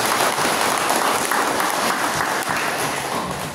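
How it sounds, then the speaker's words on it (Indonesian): A church congregation at a First Holy Communion Mass in Waipei, Lembata, applauds the choir and organisers with sustained, even clapping from many hands that fades slightly toward the end. "Mari kita memberikan aplaus kepada anggota KOR dan organisasi."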